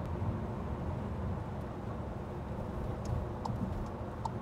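Steady low road and engine rumble inside a Volkswagen California Beach van cruising at 120 km/h, an even cabin drone with faint ticks and rattles and no talking.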